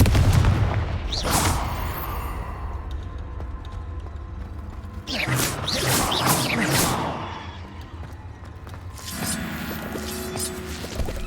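Confringo fire spells blasting in the Hogwarts Legacy video game come as three loud bursts spread across the span, each with a crackling, echoing tail over a low continuous rumble.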